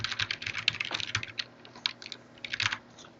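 Rapid clicking of keys on a TI graphing calculator keypad as long numbers are entered, with irregular bursts of close, crisp taps and short pauses, and no voices.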